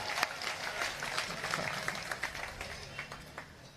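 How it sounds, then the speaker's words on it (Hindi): An audience at a Hindi satirical comedy performance breaks into applause, a dense crackle of many hands that holds steady at moderate volume before gradually thinning out. "अब आपकी तालियां उठेंगी"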